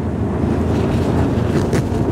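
Frauscher 1414 Demon twin-engine superboat running at 25 knots at sea, a heavy continuous low engine drone mixed with rushing water and strong wind buffeting the microphone.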